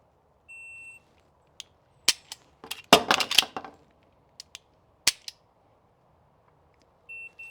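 An unloaded pistol is dry fired on a timer drill: sharp, close trigger clicks come in a quick irregular cluster, then a few spaced single clicks, with short electronic timer beeps at the start and end.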